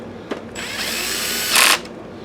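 A power drill drives a fine thread screw into a Sanyo PLC-XM150L LCD projector during repair. Preceded by a small click, it gives a whirring run of about a second that rises to a sharper, louder burst before stopping.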